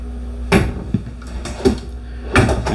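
Kitchen drawers and cabinets in a Cedar Creek 38DB fifth-wheel RV open and shut, giving three or four solid wooden knocks and thumps at close range over a low steady hum.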